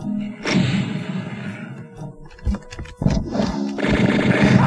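Rocket launcher firing and blasts in Final Doom's Plutonia Experiment, Map 20 "The Death Den": heavy booming explosions with sharp bursts mid-clip, amid continuous loud game noise and monster roars.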